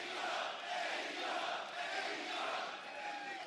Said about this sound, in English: And the chant of AEW rings out here in California.